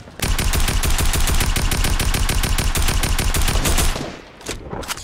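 Rapid automatic gunfire in Fortnite, a long unbroken burst of loud, evenly spaced shots that cuts off near the end, followed by a few scattered softer sounds.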